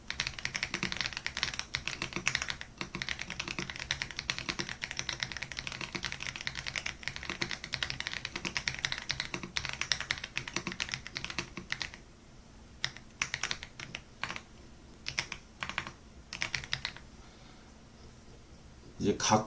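Rapid computer keyboard typing clatters steadily while a document is formatted for an ITQ Hangul word-processing exam, with a person speaking over the keys, followed by sparser, slower keystrokes and pauses.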